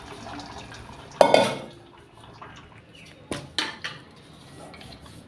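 Boiled noodle water for paneer noodles is poured off into a plate: a sudden splashing gush, then quiet, followed later by a few short clinks and knocks of the pot against the plate.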